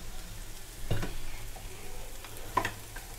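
Pasta stirred into sizzling masala in a pan in a home kitchen, a steady close fry hiss with a few scraping spoon strokes, no talk.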